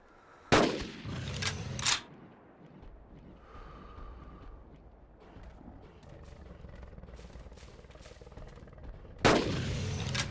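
Gunshots in the video game Carnivores Dinosaur Hunt during a dusk hunt: two sharp, loud blasts close together, then a quieter stretch of ambient game noise, and another loud blast at the end.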